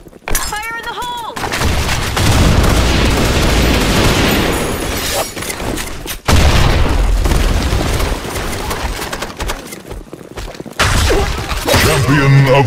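A grenade goes off in the Blackshot shooter with a loud, heavy boom, then more booming blasts and gunfire come in bursts. Voices shout over the chaotic fight.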